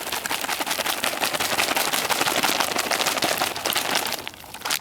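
An MRE flameless ration heater bag holding water is shaken vigorously, producing loud, rapid, continuous plastic crinkling and sloshing, close up and uninterrupted for several seconds.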